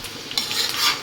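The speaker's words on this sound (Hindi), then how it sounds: "अब इस तरह से मैं इसे चलाऊँगी और बिल्कुल लो फ्लेम में" Nimki snack stirred in hot oil over a low flame, a close, bright sizzle with a brief scrape as the spoon moves, loud and alone for about a second.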